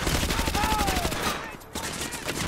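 UMP submachine gun firing in Call of Duty Modern Warfare 2 Remastered, a fast rattling burst of shots lasting most of the moment with a brief gap, amid busy battle noise and a trailing whistle.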